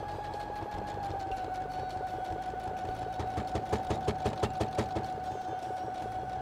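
Sewing machine stitching a fabric tape onto a car trash bag, steady rapid needle rhythm with a constant motor hum, close and alone.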